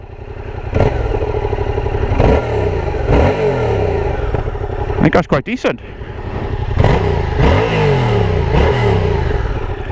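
A 2016 Yamaha MT-07 motorcycle with stock exhaust idles loudly up close and revs several times in rising surges, with someone talking briefly over it.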